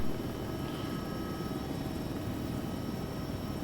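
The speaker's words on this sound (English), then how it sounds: "Get on the chopper! Now!" A helicopter in the video game ARMA 3 produces a constant loud whirring rotor and engine drone that holds steady throughout with no voices.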